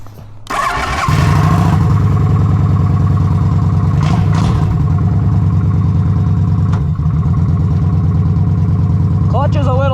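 A Kawasaki Vulcan 900 Classic motorcycle engine cranks and fires up, then settles into a loud, steady idle that continues close by for the rest of the clip.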